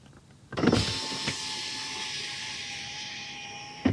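A Chrysler Pacifica front power window motor whirs with a steady electric whine after a click starting it, holding continuously for a few seconds before another click near the end.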